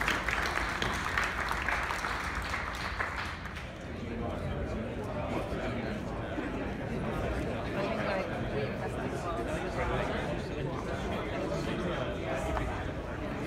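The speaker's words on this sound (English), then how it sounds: "So I think they deserve a round of applause." Audience applause at the Jaguar i-Pace concept car reveal, a dense steady clapping from a crowd that runs throughout, with a voice speaking over the first few seconds.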